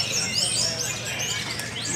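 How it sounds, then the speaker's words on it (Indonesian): Several songbirds at a bird singing contest chirp and whistle in overlapping quick, bright phrases, moderately loud and continuous, with a soft hum underneath. "lomba burung berkicau"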